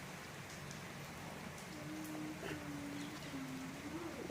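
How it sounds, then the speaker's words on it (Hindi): Steady outdoor rain pattering over a garden of plants in a continuous broadband hiss, with a thin whistling tone drifting in during the second half and no voices. "अभी बारिश हो रही है"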